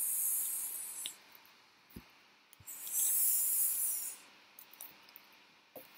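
A voice imitating a snake's hiss, a few drawn-out breathy hisses separated by short pauses and small knocks, with no other talk.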